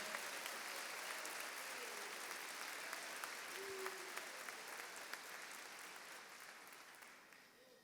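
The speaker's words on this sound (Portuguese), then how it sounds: "Dá uma salva de palmas para Ele." Church congregation applauds in worship, a broad, sustained wash of clapping that stays fairly even before slowly tapering, with faint voices mixed in underneath.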